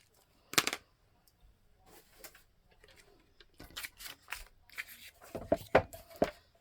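A junk mail envelope being cut, a few crisp, separate snips and paper rustles in a quiet room, with the sharpest cuts near the start and end.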